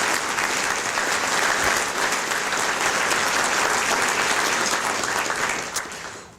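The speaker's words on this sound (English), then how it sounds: "So a round of applause for the community college students." Sustained applause from a large audience at a chamber of commerce awards night, loud and even, tapering off toward the end.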